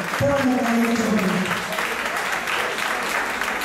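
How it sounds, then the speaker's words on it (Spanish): A crowd at a tango milonga at Club Gricel claps steadily for a pair of Argentine tango dancers, a dense, even round of applause with a voice briefly audible at the start. "Vamos pasando, damos un aplauso."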